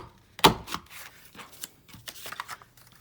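A sharp punch-and-cut snap as a tag punch chops through desktop calendar paper, followed by softer rustling and small clicks of paper being handled close by, with no talk.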